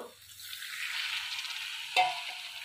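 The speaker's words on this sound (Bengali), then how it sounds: "ভালো করে ভেজে নেব মশলাটাকে" Spice paste for chicken sizzles steadily in a pan, a close, hissing fry that holds throughout, with a brief stir or scrape near the end.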